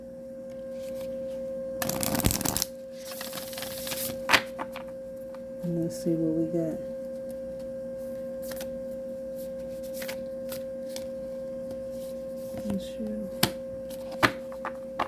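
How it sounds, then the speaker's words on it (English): Quick riffling bursts of cards being shuffled, with a brief spoken remark and a faint steady electronic hum underneath. "And then we'll do one more shuffle."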